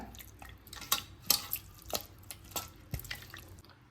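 Raw chicken being mixed with masala by hand in a bowl for Mangalore chicken ghee roast: soft wet squelches and light clinks, irregular and quiet, with no talking.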